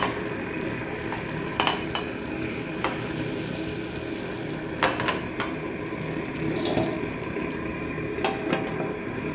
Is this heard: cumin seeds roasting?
yes